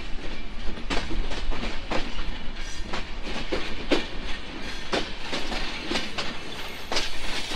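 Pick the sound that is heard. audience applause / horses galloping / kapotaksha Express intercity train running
kapotaksha Express intercity train running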